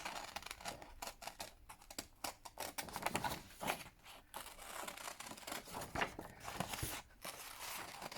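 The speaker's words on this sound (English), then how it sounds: "I'm just going to very roughly fussy cut this" Scissors roughly fussy-cut around a paper piece for a handmade book, a quiet run of irregular snips and soft paper rustles close by.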